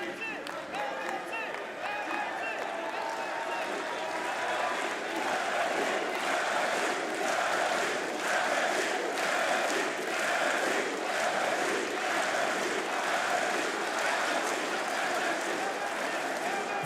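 A large arena crowd at the BLAST R6 Munich Major esports event roars and cheers steadily, with applause running through a dense, continuous wall of noise that swells slightly midway.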